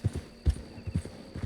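A horse in Red Dead Redemption 2 moving at a gallop, its hooves thudding in quick, uneven clip-clop beats close by, with no voice over them.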